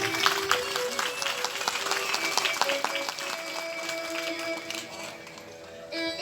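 An audience at a religious discourse gathering applauds for saints, a dense, sustained burst of clapping that gradually thins toward the end, with faint music tones beneath.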